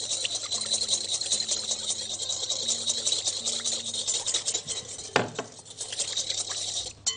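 A spoon stirring a tuna and lentil salad dressed with lemon juice and olive oil, a steady close scraping and clinking that runs throughout with no talking, plus one sharper knock partway through.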